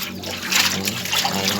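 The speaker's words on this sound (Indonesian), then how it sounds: "Ini saya kasih air bosku" Water poured into a handmade metal steamer pot to check it for leaks, a close, splashing gush with hollow ringing, someone talking over it.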